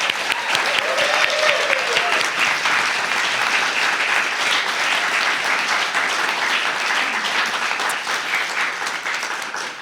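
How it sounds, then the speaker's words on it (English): Sustained studio audience applause for folk musicians playing Québécois and Irish traditional music on a live radio show, a dense, steady wash of clapping lasting throughout without a break. "Let's give a round of applause to our musicians for being here."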